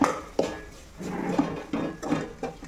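A spoon scrapes and clinks against a cooking pot while garam masala and coriander powders are stirred in for a Sunday chicken curry with gravy, several distinct metallic knocks spaced apart at close range, no voices.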